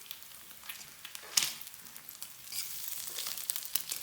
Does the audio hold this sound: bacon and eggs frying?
yes